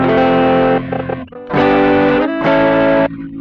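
Electric guitar played through a distortion effect, giving a slightly gritty, overdriven tone; three sustained chords ring out loud and close, with short gaps between them and no voices.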